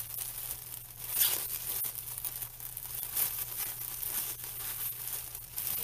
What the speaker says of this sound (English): Tape this section to the back.